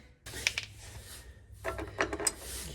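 A wrench or ratchet snugs down nut, lock washer and flat washer hardware on Westin R5 running boards under a truck, with two short bursts of close clicking and scraping separated by a quiet gap.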